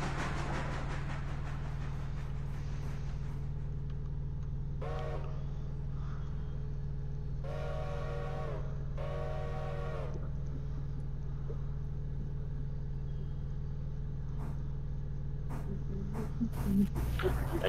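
A steam locomotive in the train simulation game Railroader sounds its whistle in three harmonic blasts, a short one followed by two longer ones, over a steady low engine rumble.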